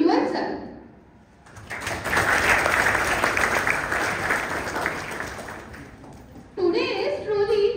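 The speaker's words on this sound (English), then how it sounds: "So clap for yourself." A hall of new medical students at a dean's address in a medical college breaks into loud, dense clapping that lasts about five seconds, with a voice speaking just before and after.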